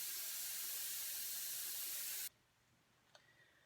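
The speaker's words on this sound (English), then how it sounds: "I fill this with water" Tap water runs steadily into a jar for sprouting seeds, a broad hissing stream that cuts off abruptly partway through, followed by near silence and a faint clink.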